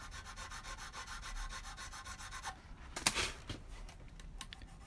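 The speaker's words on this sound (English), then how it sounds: "So we'll just slightly widen those nut slots." Slow, steady filing strokes widen the nut slots on a 2017 Gibson 60s Tribute Les Paul Goldtop. The rasping rubs run close and continuous, with a sharper scrape partway through.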